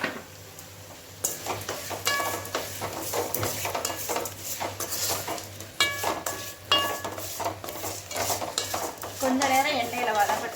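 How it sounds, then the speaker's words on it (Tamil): Potatoes sautéing in oil in a pan while cooking green pea kurma, with steady stirring scrapes, utensil clinks against the pot and a soft sizzle running throughout, close and moderately loud. "கொஞ்ச நேரம் எண்ணெயில் வதங்கட்டும்."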